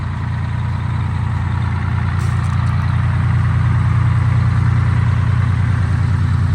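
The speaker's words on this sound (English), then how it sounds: "Started right up, baby. Detroit diesel." A fire truck's Detroit diesel engine idles steadily and close by, a loud, even low rumble with a fast rhythmic chug throughout, and no talking over it.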